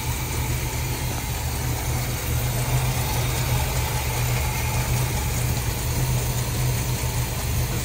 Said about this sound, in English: Fires up real nice. Idling there real smooth.